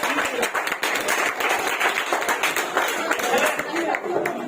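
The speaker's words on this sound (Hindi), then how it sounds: "इसके लिए एक बार ताली बजाइए।" Audience applause at an exam-preparation gathering, a dense burst of many hands clapping steadily and fairly loudly for several seconds with no gaps.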